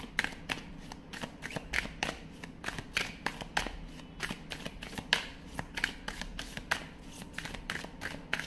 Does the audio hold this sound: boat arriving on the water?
no